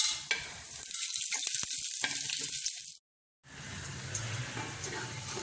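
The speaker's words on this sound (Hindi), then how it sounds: "तमाम गरम मसाले को हमने 2 मिनट के लिए फ्राई करना है।" Whole garam masala spices frying in oil, a close, bright sizzle with stirring that runs steadily, breaks off into a brief silence, then resumes just as strongly.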